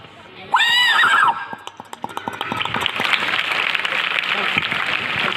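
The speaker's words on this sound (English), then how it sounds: "The sound of horse." A horse whinnies loudly for about a second, then fades into a busy stretch of clapping or clattering noise.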